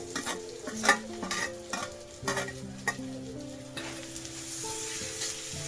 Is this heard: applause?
no